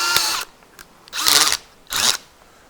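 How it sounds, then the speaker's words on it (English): An electric drill fitted with a socket turns a height adjuster on homemade guide rails for a Granberg Alaskan mill, running in three short loud bursts separated by pauses. "it's a simple matter of using forward and reverse on the drill to adjust the height of the ladder"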